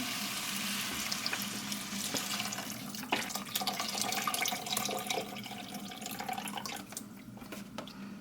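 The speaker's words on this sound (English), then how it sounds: "I'm going to go ahead and put the rest of this chicken broth in here." Chicken broth pours steadily into a pot, a continuous splashing gurgle with a faint sizzle beneath it.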